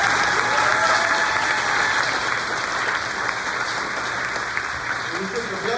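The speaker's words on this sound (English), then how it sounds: "So clap it up for the champions." A sports banquet audience applauds its champions, a loud, dense and steady wash of clapping from a large crowd that continues without break and eases off only slightly toward the end.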